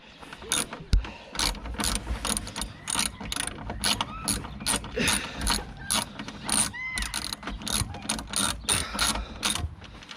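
A ratchet clicks in quick repeated bursts while undoing 10mm bolts on the intake tube of a 2003 Volvo XC90, close and crisp, with short pauses between strokes.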